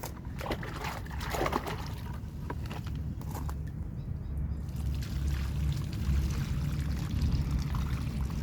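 Water pours steadily onto a guava plant set in a woven basket, a continuous close splashing trickle under low outdoor background noise.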